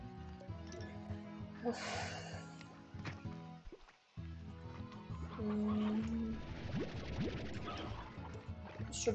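Chickens cluck repeatedly in the video game Slime Rancher, mixed with game music and effects, and someone speaks over parts of it.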